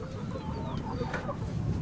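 Hens clucking steadily inside a henhouse holding about 300 laying birds, a dense close chorus of overlapping clucks and chatter with no talk.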